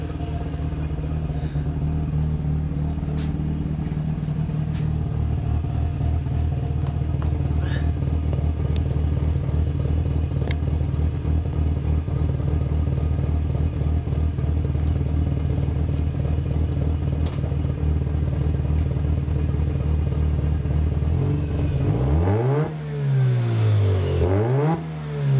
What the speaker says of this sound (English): the one thing I love about this exhaust system is that it's really quiet at idle